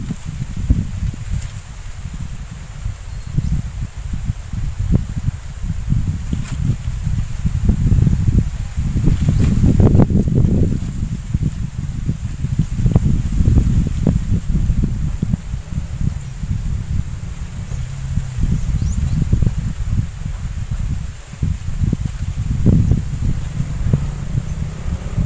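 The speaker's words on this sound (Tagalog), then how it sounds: "malakas na naman ang hangin" Strong wind blows outdoors and rustles leaves in a steady, loud roar for about 25 seconds, with gusts and some rumbling buffeting on the microphone. No one speaks.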